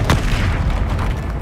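A Confringo fire spell in Hogwarts Legacy bursts with a loud, deep blast followed by a rumbling roar that fills the short moment, with no talk.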